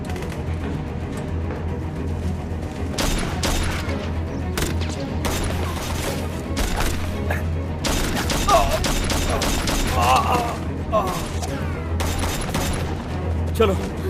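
Repeated bursts of gunfire crackle in clusters over a constant low rumble, the shots sharp and fairly close.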